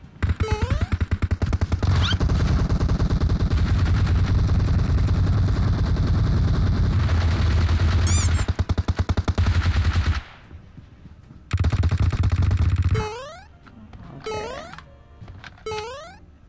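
Gunfire in the battle-royale game PUBG Mobile: a long, loud run of rapid automatic fire, then a short pause and several separate sharp bursts close up, with no one talking.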